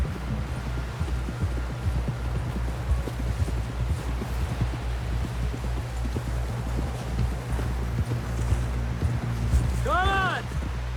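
Horse hooves clip-clop steadily along a trail in the Red Dead Redemption 2 video game, a continuous rhythmic patter under a low ambient hum and music, with people talking over it.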